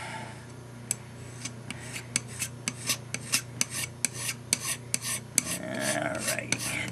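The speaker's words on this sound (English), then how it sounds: "When you get down to the point where you know you're almost done filing, it just kind of disappears. So let's just file a little bit more." Hand file rasping a rail for hand-laid N scale model railroad turnouts, a steady series of close, crisp metallic strokes in even rhythm, with faint handling sounds near the end.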